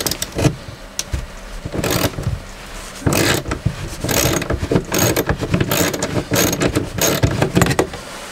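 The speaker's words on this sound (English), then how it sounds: "We're using a 3/8 inch socket. These are 3/8 inch nuts on the inside." Ratchet with a 3/8 inch socket turning 3/8 inch nuts while removing a porthole, bursts of rapid close clicking that repeat in short strokes with brief pauses between.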